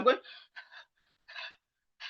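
A voice imitates panting as after climbing stairs or sport, giving several short breathy huffs of the H sound in an uneven rhythm, close and fairly soft, with brief silent gaps between them.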